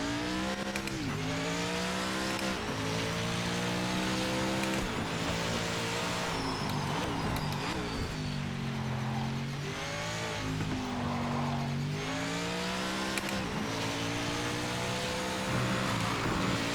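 An LMP race car in Project Motor Racing at full throttle, its engine revving hard and climbing through repeated gear changes, loud and close with a steady roar and no voices.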